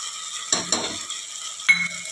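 Egg biryani masala frying in a pan over a faint sizzle, with a few short scraping stirs of a utensil, close and moderately loud.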